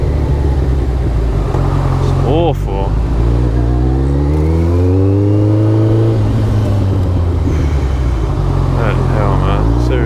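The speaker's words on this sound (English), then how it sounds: "Traffic is so bad at this time around here." Busy road traffic with cars and engines passing close to a motorcycle rider in town, a steady rumble with rising revs and shifting engine pitch throughout, while someone talks over it.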